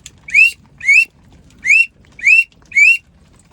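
Five rising squealed whistles from a 4-in-1 duck whistle imitate a wood duck call, sounding loud and close at an even, spaced rhythm with quiet gaps between them.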